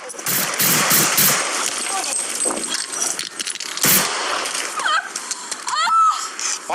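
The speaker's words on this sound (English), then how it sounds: "Officer needs help. Shots fired." A police shootout captured on an officer's body camera, with a rapid volley of sharp gunshots near the start and another burst mid-clip amid shouting and radio chatter.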